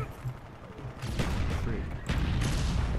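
A G11 rifle fires in three-round bursts in the Black Ops shooter game, two sharp bursts about a second apart, loud and close amid game noise.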